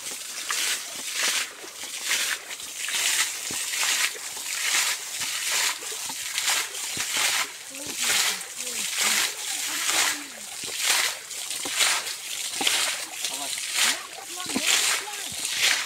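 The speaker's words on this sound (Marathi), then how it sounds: "आता आपण साखली लावून पाणी उपसतोय" Water is scooped out of a fishing pond with a rope-slung bucket and tossed out in a steady rhythm of repeated splashes, roughly one per second, close by.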